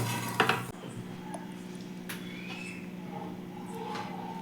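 A homemade pizza being cut: a short clattering scrape of a blade against a pan, then faint, sparse clicks and scrapes over a low steady hum.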